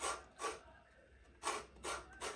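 An unwaxed lemon scraped against a cheese grater, five soft rasping strokes in two quick pairs with a single one between, close and quiet.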